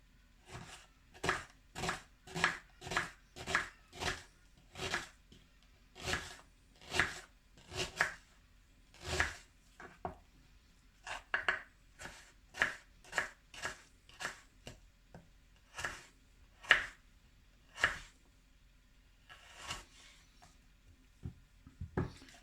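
A sharp knife chops half an onion on a board in about twenty steady, close strikes, some in quick runs and others spaced apart, with no talking.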